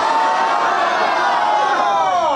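A large crowd at an open-air Islamic religious gathering in a Nadia village roars together in answer to a preacher's call, a loud, sustained collective shout that swells and holds across the whole moment.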